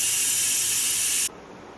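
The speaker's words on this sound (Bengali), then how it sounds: "আর এদিকে চিকেনটা আমার সেদ্ধ হয়ে গেছে, স্টিমটা আমি রিলিজ করে দিচ্ছি।" Steam rushes out of a pot after chicken has finished boiling: a loud, steady, close hiss that cuts off abruptly partway through, leaving a quieter background.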